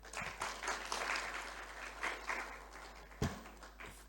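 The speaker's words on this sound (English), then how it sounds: "I think you deserve much more applause than this." Applause from a conference audience after a talk, a modest, steady patter of clapping of middling distance lasting several seconds, with a sharper single clap near the end.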